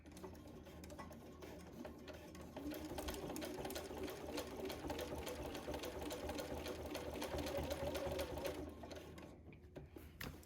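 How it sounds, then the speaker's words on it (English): A sewing machine stitches binding onto a quilt, a steady continuous motor whir running almost the whole time at moderate level, with a brief lift and pause near the end and no talking. "I'm just going to start sewing."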